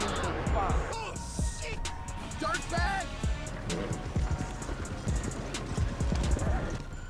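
Horse hooves clip-clop in a steady rhythm through a busy Red Dead Redemption 2 game soundscape, with voices and whistle-like calls scattered across it and talk underneath.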